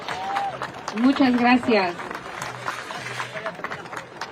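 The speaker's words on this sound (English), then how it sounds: "Can we have another round of applause?" Brief applause from a crowd at a Walk to Freedom rally for Leonard Peltier in Washington, D.C., clapping under a speaker's voice, moderately loud and short.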